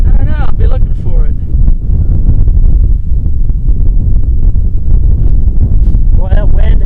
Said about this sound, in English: Boy, that wind is going.